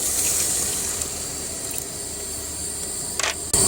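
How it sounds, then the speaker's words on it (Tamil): Water pours steadily into a pot of soaked basmati rice for a mushroom biryani, a continuous close rushing splash that ends with a brief clatter near the finish. "இதில் ஊற்றுறேன் தண்ணி."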